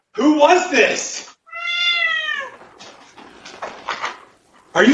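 A house cat gives one clear, drawn-out meow in the middle, close and fairly loud, with other voiced sounds, likely talking, before and after it.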